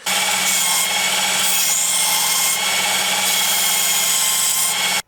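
A Work Sharp Ken Onion Edition Mk.2 belt sharpener grinds a knife blade with the belt at 90 degrees to the support plate, giving a loud, continuous abrasive whir that runs steadily for five seconds before cutting off.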